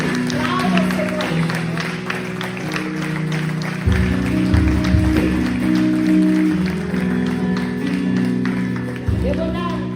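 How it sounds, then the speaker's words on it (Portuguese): A church congregation claps and cheers, a broad crowd applause that swells louder midway, mixed with a voice speaking over the noise. "Vocês recebem isso, aplauda ao Senhor nessa noite. Aplauda ao Senhor."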